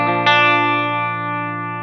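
An electric guitar on a clean Mark IV-style amp tone runs through a Fractal AX8 emulation of a Boss CE-1 chorus: one strummed chord rings out and decays evenly, with a shimmering modulated sustain and no talking.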